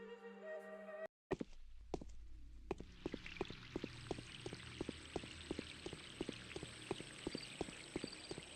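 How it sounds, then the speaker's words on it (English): Rain falls in the video game Pathologic, a steady patter with regular soft thunks and drips over a high, constant hiss, following a brief sharp cut near the start. "It's raining."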